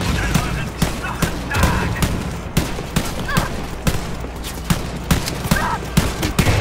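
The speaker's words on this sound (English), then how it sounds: "What are these explosions that are happening?" Gunfire and explosions in the Wolfenstein Youngblood video game, with rapid repeated sharp shots and bursts that keep going throughout at close, loud levels.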